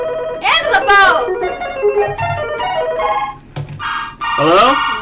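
A telephone rings in bursts of bright, warbling electronic tones, loud and close, with people talking over and between the rings.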